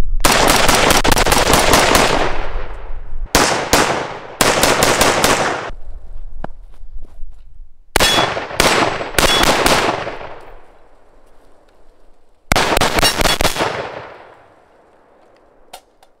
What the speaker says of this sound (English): With the assistance of this muzzle brake, it's actually a very flat shooting rifle.